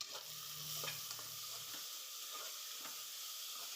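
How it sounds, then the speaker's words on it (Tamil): Onions, tomato and capsicum sizzle steadily in hot oil for paneer biryani, with repeated scraping stirs of a spoon in the pan, close up and with no talking. "வெங்காயம் நல்லா ஃப்ரை ஆகி கலர் மாறினதும் தக்காளி, குடமிளகா ஆட் பண்ணி நல்லா மிக்ஸ் பண்ணி விட்டுக்கலாம்"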